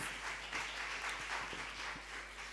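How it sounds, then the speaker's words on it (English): An audience at a disaster risk reduction panel discussion applauds the panelists, a steady wash of clapping from many hands that holds throughout without any speech. "A round of applause again for all our panelists."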